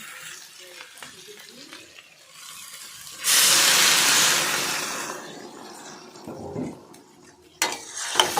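Water poured into a pan of cooking vegetable curry sets off a sudden loud sizzle that surges, holds for a couple of seconds and fades into softer bubbling, with spoon stirring and pan clinks before and after.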